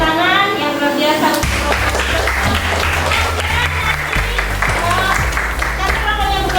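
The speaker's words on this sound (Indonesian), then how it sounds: "tepuk tangan yang luar biasa" Classroom clapping from students after a lesson, with distinct rhythmic hand claps in bursts, set against music and a teacher's voice talking over it.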